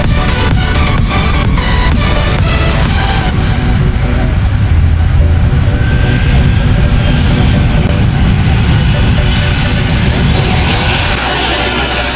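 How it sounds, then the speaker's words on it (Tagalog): A large jet airplane roars low over Maho Beach on St. Maarten, a loud, sustained engine rumble and whine that swells overhead and then fades into a lingering hiss. "sakto sa pag-alis natin makakasampo pa tayo ng isang malaking eroplano"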